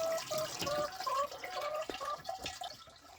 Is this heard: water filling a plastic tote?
yes